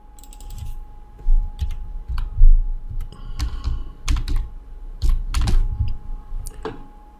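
Fingers type on a computer keyboard in a quiet room, a steady run of close, crisp keystrokes with brief pauses and a few louder clustered taps.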